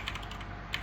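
Computer keyboard typing, a few soft faint clicks in quick succession in a quiet room.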